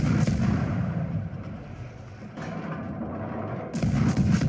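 Naval gunfire from a T-22 destroyer in the game World of Warships, a run of heavy booming shots with rumbling low thuds, louder bursts at the start and end and a quieter stretch between.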